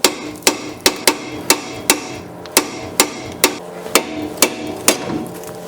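Hammer striking the upper control arm of a Chrysler 300 during a front CV axle job, about fourteen sharp metallic blows at a steady, fairly quick rhythm, close and loud.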